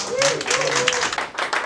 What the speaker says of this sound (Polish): Ludzie, brawa!